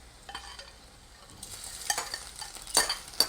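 Potato and egg stirred in a frying pan for egg bonda, a faint close sizzle broken by a few sharp scrapes and clinks of a utensil against the pan, which grow louder toward the end.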